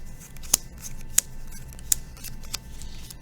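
Playing cards dealt out and turned over on a table, making four sharp, crisp snaps spaced about half a second apart against a soft, steady background, with no talking.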